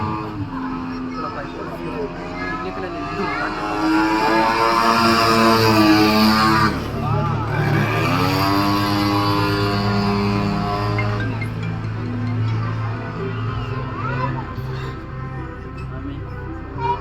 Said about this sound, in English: You can hear the engine sound roaring through the sky.